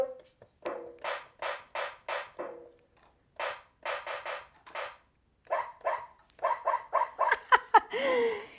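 A barking-dog sample triggered from the drum kit mode of a Glarry GPP-101 portable keyboard, playing as repeated short bark bursts in quick rhythmic groups, faint and clear, ending in a brief higher yelp.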